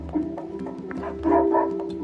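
A dog barking in the Nier Replicant video game, a few short close barks and yips over a steady tonal background hum.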